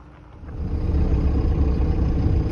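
A 4x4 vehicle engine pulling away and rising to a steady low rumble, heard close from inside as it heads onto a mountain track into a nature reserve near Tabernas, Almería.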